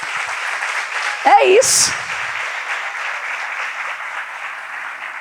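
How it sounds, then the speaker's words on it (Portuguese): Church congregation applauding at a service, broad steady clapping filling the clip at moderate loudness, with a brief spoken remark near the start. "Vamos dar uma linda salva de palmas para Jesus?"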